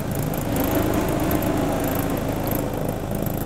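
A stuck Mahindra pickup revs its engine steadily while the back wheel churns in place. The engine drones loud and continuous, with no voices over it.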